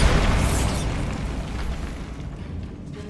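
Bombarda spell explosion in Hogwarts Legacy, a loud booming blast at the start that rolls into a long, dense rumble, slowly fading over a few seconds.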